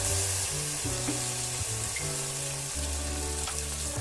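Tomato frying in a pan for broken wheat khara pongal, a steady close sizzle continuing throughout with no voices over it.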